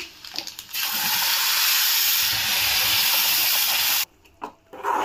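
Ground Chettinad onion-tomato chutney poured into a hot pan bursts into a loud, steady hiss for about three seconds, then cuts off abruptly into quiet with a few brief stirring sounds.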